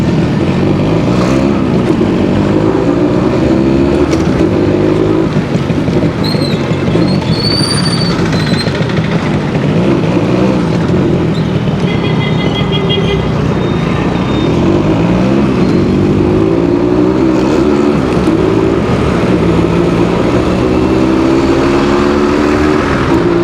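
A 100cc Suzuki AX100 two-stroke motorcycle is ridden at around 60 km/h, its raspy exhaust buzzing loud and continuous, rising and falling with throttle changes, with steady wind and road noise throughout and no talking.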